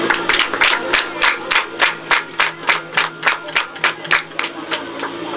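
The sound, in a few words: audience applauding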